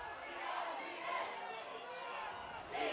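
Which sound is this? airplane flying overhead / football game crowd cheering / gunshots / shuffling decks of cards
football game crowd cheering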